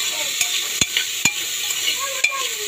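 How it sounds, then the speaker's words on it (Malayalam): Onions sautéing in a pan for yellow rice made with white ration-shop rice give a steady close sizzle, broken by a few sharp scrapes and clinks of a stirring spoon against the pan. "അപ്പോൾ ഉള്ളിയും ഇതെല്ലാം ഒന്ന് വഴണ്ട് വരട്ടെ"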